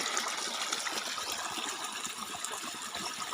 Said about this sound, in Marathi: कसा मस्त खळखळ आवाज सुटला आहे तिथे गिन्नी गवताला पाणी चाललं आहे